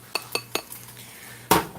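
Onion is scraped out of a bowl or pan with a utensil while cooking squirrel, making three quick metallic clinks in a row, then a pause and a louder clatter.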